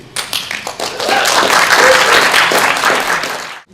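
An audience at a leadership talk welcomes a speaker with a few early claps that swell into full, close applause mixed with scattered cheers, then fade out.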